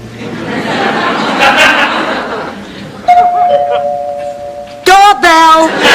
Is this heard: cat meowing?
no